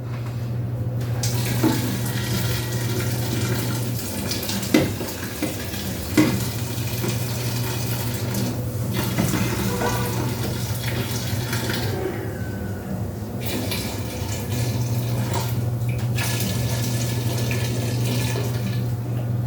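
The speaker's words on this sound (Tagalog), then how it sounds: "Magdagdag na lang tayo ng tubig po." Water is poured into a cooking pot holding simmering food, a continuous splashing rush with some clinks and a steady low hum underneath.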